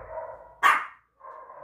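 A single sharp dog bark at close range, loud and brief, set between stretches of a low steady background hum in a home setting.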